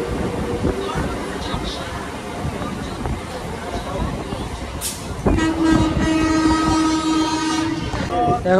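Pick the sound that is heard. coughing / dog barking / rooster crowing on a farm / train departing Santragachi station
train departing Santragachi station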